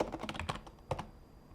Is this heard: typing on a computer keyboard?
yes